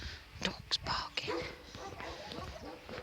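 A spaniel barks in a village setting, with short sharp yips and barks standing out near the start, followed by fainter bursts under ongoing background murmur and some talking.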